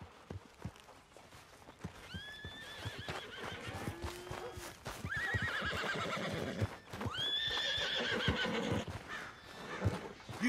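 A horse in Red Dead Redemption 2 gives several loud, shrill whinnies over steady clip-clop hooves and footsteps, with rustling movement close by.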